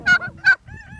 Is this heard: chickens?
yes